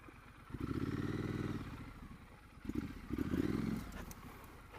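A Triumph Street Scrambler motorcycle ridden off road on a loose surface, its mid-pitched engine rising in two hard revving bursts with a brief drop between, close and fairly loud.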